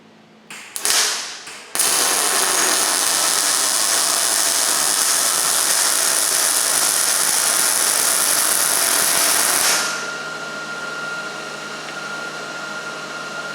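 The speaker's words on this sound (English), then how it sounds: "it's gonna be kind of a short weld, but this is all I have for scrap at the moment" MIG welding on scrap metal with a Miller Millermatic 211 makes a loud, steady crackling hiss that runs for about eight seconds after a few short starts, then stops, leaving a quieter hum.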